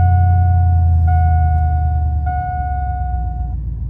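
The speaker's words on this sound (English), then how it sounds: "Definitely idles a lot better." Car engine idling after maintenance, a steady low rumble with a faint tonal whine above it, close and alone for a few seconds before the rumble softens slightly.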